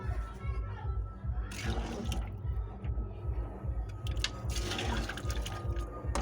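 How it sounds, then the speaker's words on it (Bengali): Water is poured generously into a cooking pot of meat, a continuous liquid splash and fill sound running under a faint voice. "এই যে এবারে একটু জল দেবো, একটু বেশি করে দেবো জল"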